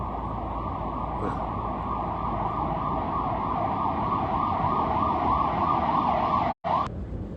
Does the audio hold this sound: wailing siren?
yes